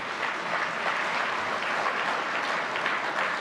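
An audience at a municipal association's annual general meeting applauds a provincial ministry, a steady even wash of many hands clapping at a distance with no voices over it.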